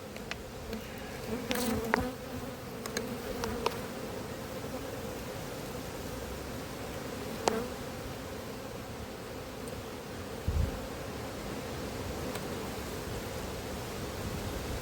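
A dense, continuous drone of many honeybees buzzing close by at a hive entrance in an apiary, steady throughout, with a few brief rustles and knocks.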